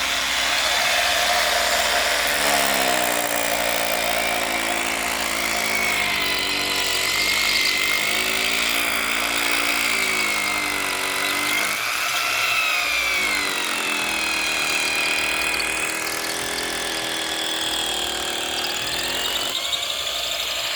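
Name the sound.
power drill boring a hole into a wall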